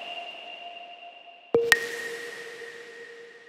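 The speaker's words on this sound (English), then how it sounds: "Now you could also hear a sort of hit, a sort of bell in the introduction." Two sharp synthesized bell hits built from a basic sine wave with reverb and effects ring out one right after the other, each leaving a long pure tone that fades over a faint sustained hum.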